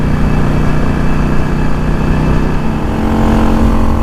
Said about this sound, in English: This gives me better throttle response,